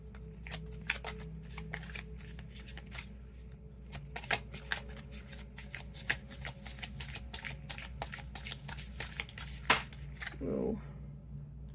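Tarot cards shuffled in a run of crisp, rapid riffling clicks and flutters, close and fairly soft, with a few sharper snaps and a brief voice near the end.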